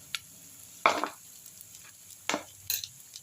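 Curry leaves, asafoetida and ginger roast in a pan, with a faint sizzle under a handful of sharp, irregular scrapes and clicks of a stirring spoon, close by.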